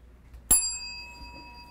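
A single bell is struck once, giving a sharp metallic ding that rings on with clear sustained tones and fades slowly, heard alone in a quiet room during a classroom conditioning demonstration.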